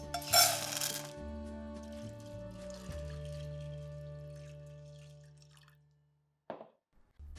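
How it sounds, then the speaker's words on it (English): Water is poured into a pot of azuki beans in a short, splashy gush, after which the pot rings faintly with fading tones and a few late drips. "put the beans back into the pot and cover with"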